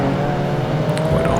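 Jaguar XJ220 engine in Project Gotham Racing 2, a steady sustained drone running throughout at moderate level, with a brief higher whine near the end.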